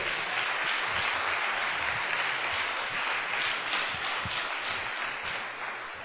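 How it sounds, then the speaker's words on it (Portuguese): A church congregation applauds during a Wednesday sermon, a broad, steady wash of many hands clapping that fills the room from start to finish and fades slightly at the end, with no talk over it. "Que dá uma salva de palmas para o Senhor."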